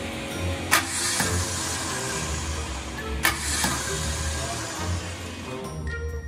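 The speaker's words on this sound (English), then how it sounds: "That's the starter acting up now." The starter on a 400 small block Chevy Trans Am cranks in steady, grinding bursts, close and continuous, with a couple of sharp clunks marking the cranking attempts.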